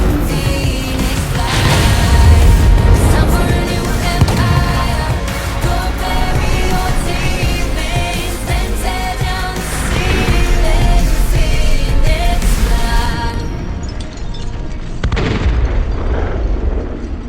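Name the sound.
bomb explosion in video game Monster Hunter World Iceborne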